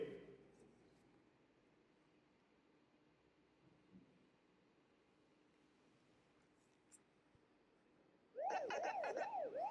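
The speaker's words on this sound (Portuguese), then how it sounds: "Continua a sirene de fundo." A wailing, rising-and-falling emergency siren breaks in loudly near the end, after a long stretch of quiet classroom room tone with faint voices.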